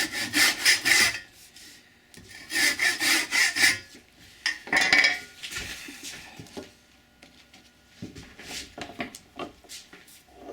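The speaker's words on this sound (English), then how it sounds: "Any excuse to use one of my saws." A hand saw cuts through pine in bursts of quick, rasping back-and-forth strokes, with pauses between sets of strokes and quieter scraping near the end.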